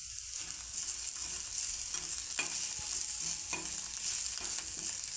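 A dish stir-fried in a pan just after a splash of lemon juice goes in: a soft, continuous sizzle with occasional scrapes of a spatula, fairly quiet and without talk.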